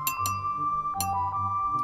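A spoon clinks against a ceramic tea cup while stirring, several bright ringing taps close up in quick irregular succession, each leaving a short tonal ring.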